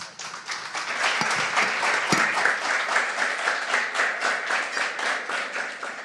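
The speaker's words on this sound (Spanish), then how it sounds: "Merecidísimo ese aplauso para nuestros panelistas" An audience at a cacao and chocolate festival panel gives its panelists sustained applause, a full, even wash of many hands clapping with individual claps standing out, swelling slightly and then easing off.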